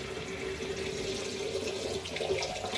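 A kitchen sink tap runs steadily, producing a continuous close hiss of flowing water that stays even from start to finish, with no voices.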